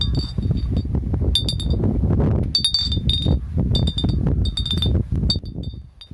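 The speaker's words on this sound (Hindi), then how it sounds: "एक डंडे की सहायता से उन्होंने बोतल को लटका दिया है, जो कि बोतल कांच की है और उसमें एक लोहे की कील भी लगी है" A hanging glass bottle fitted with an iron nail, strung from a stick in a wheat field to scare off wild animals, clinks again and again in bright irregular clusters over steady loud wind or rustling.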